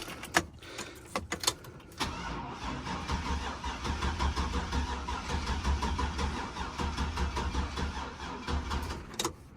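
A truck engine cranks and struggles to start, a run of steady mid-pitched churning that goes on for several seconds after a few short bursts, loud and close with no talking.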